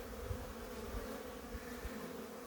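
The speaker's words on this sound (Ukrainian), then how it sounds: "А тут взагалі бурний обліт, як весною." Many honey bees swarm out on a busy January cleansing flight from their hives, making a dense, steady buzzing hum that stays soft and continuous throughout.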